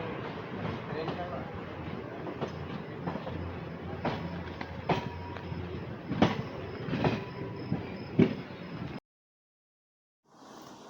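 A train on the Hyderabad to Kurichedu route rumbles along steadily with metallic clanks and a few sharp squeals, then cuts to near silence before a brief burst of noise.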